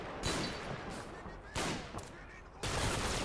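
Bursts of wartime gunfire around an MG42 machine-gun position in the WWII strategy game Combat Mission, heard as three loud, broadband volleys separated by short gaps, with no talk.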